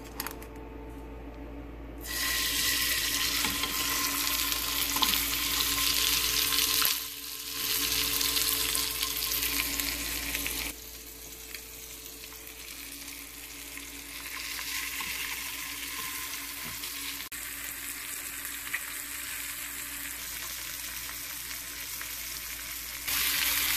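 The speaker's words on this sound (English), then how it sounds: "Add some butter," Lobster sears in butter in a pan over medium-high heat, a loud, dense sizzle that holds steady throughout, dipping briefly and then settling slightly quieter in the later part, with no talking.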